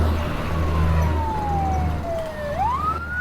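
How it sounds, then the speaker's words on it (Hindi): Fire brigade trucks sounding sirens as they pass, a long wailing tone that sweeps down in pitch then rises again over a low rumbling engine, loud and near with a second siren joining late. "ये फायर ब्रिगेड की गाड़ियाँ इस तरफ क्यों जा रही हैं?"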